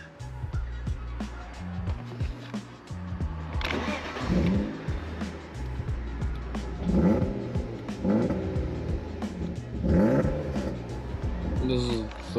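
A BMW E36 engine cranks and catches on a hidden push-start ignition switch, then idles and revs in repeated roaring swells, loud and close, with someone talking over it.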